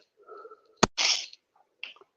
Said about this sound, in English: I might have to sneeze again, but not instantaneously